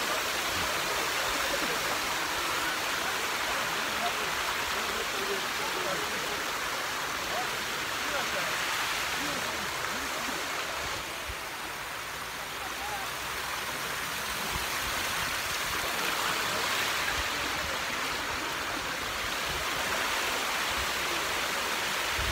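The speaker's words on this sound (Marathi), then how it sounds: "भरपूर असं गरम पाणी आहे" Hot spring water rushes and gushes steadily nearby at Pamukkale, Turkey, a constant broad hiss of flowing water that swells slightly at moments.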